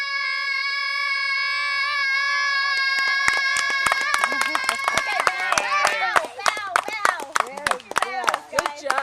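Several sharp hand claps ring out close over sustained singing, starting sparse and then coming in a quick, irregular burst under the vocal.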